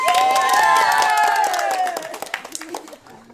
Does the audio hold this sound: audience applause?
yes